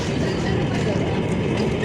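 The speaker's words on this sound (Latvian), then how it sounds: "Mazais tramvajiņš brauc. Suvenīra tramvajiņš." Small souvenir tram rolling through the streets of Istanbul, a steady close rumble of wheels on rails with a faint clattering rhythm that fills the clip.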